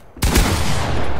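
A single loud, close gunshot from a first-person shooter video game, one sharp blast followed by a sustained ringing tail, with no talking.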